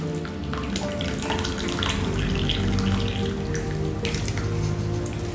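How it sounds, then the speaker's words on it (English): Onion and garlic broth strained through a sieve makes a steady pour of running, splashing liquid that continues unbroken from start to finish, close and moderately loud, with no talking. "So I basically just strain it."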